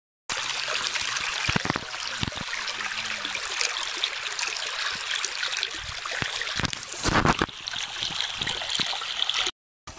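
Running water from a flowing stream beside a parked motorcycle on Eid at Meer Shahli near Dera Ghazi Khan, a steady close gurgling trickle and splash continuing throughout, with occasional louder bursts.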